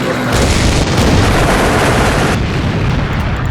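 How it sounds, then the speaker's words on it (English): Artillery fire in the WC4 Front-line Expanded mod, heard as loud, heavy rumbling booms that merge into a continuous roar before cutting off abruptly at the end. "we also got the artillery as well, which I mentioned"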